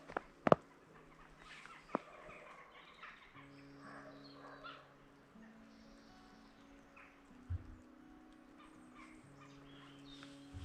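Birds call faintly outdoors beside the flooded River Severn at Ironbridge in winter: a few sharp chirps and some drawn-out tonal calls over a quiet background.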